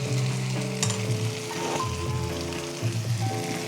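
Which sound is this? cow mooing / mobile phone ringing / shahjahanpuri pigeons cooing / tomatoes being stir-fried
tomatoes being stir-fried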